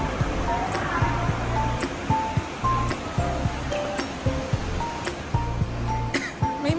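Water rushing in a river below a gorge at Taroko National Park, Taiwan, a steady broad wash with scattered clinks and clicks over it, fairly loud and continuous.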